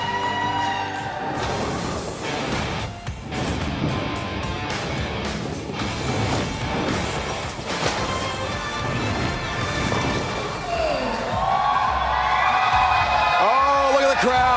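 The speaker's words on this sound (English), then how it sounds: "Oh, look at the crowd. Listen to the crowd." Crowd at a PBA King of the Lanes bowling event cheering and whooping, loud and sustained, with crashing noise early and a swelling roar of voices toward the end.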